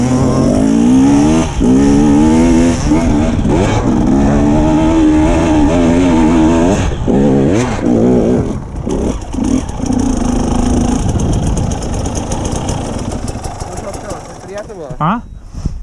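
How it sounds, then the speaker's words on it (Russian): An enduro motorcycle engine revs loudly nearby at a hard enduro ride around Odessa, then pulls away and fades into the distance, with people talking over it. "Так прикольно, мотоцикл далеко уходит вперед."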